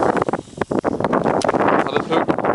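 Strong wind gusts buffet the microphone outdoors on a lake during pike fishing, a loud, roaring, uneven rush with brief lulls and no clear speech.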